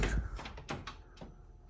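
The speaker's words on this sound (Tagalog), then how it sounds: "Buksan natin yung unang pinto." A new kitchen cabinet door being opened, with a few close knocks and a soft wooden clack as the door swings, and faint room noise between them.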